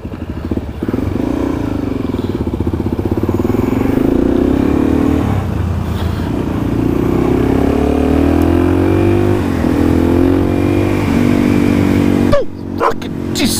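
A Suzuki DRZ 400SM motorcycle riding near a beach on Vancouver Island, its engine note rising and falling continuously up close, with a clattering knock near the end.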